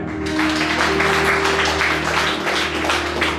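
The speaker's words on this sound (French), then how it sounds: "Applaudissez-le" A church congregation applauds during a sermon on prayer, a dense, sustained clapping over a steady low hum from the room's sound system, loud and even throughout.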